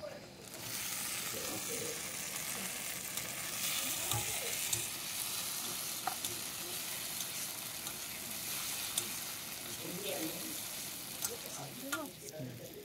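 Tomatoes fry in hot oil with onions in a pan, a steady loud sizzle with occasional stirring scrapes and clinks, while a voice talks quietly over it.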